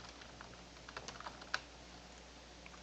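Typing on a computer keyboard while entering a password at a computer, light scattered key clicks with one sharper tap, quiet and close, with no speech.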